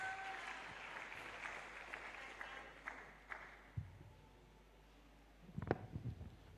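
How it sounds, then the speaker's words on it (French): Faint, distant applause rises and fades through a church anointing service, with a few louder claps near the end and no voices over it. "put your hands together for the Lord Jesus"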